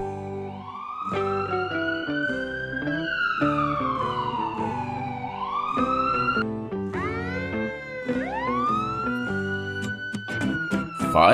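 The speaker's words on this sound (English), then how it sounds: "Ambulance." A wailing ambulance siren, sweeping up and down in long cycles, loud and near, with overlapping tones and quicker yelps near the end.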